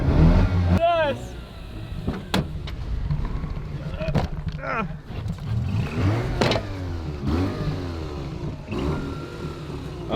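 Mazda RX-8 engine revving hard while its tyres spin and smoke, with loud rising and falling rev sweeps and excited voices shouting over it.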